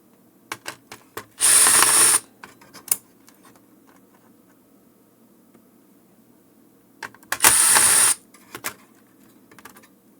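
A power screwdriver backs out screws from a Clear-Com HelixNet HMS-4X intercom, with two loud whirring bursts of about half a second each, plus scattered small clicks and taps from handling parts in between.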